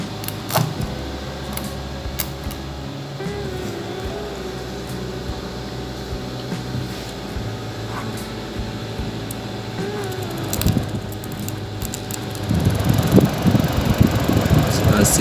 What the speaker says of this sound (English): the blower is working